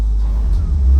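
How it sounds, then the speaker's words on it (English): A Ferrari F40 engine idles with a deep, steady low rumble, close and uninterrupted for a brief moment. "Nice little idle."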